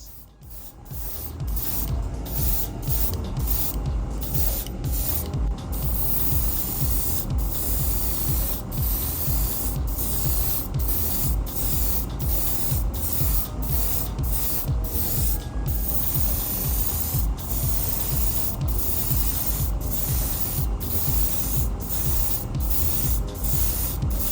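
A continuous close hiss of an airbrush spraying primer on a Hasegawa Porsche 968 scale model, steady and loud, broken by brief repeated clicks and pauses in the flow.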